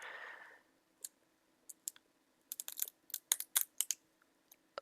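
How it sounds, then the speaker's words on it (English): A sticker being peeled and ripped off a mail package: a brief rustle, then scattered sharp clicks and tearing snaps that cluster into a quick, irregular run before trailing off, close and quiet. "I was trying to take the sticker off, ended up ripping it like 3 different times"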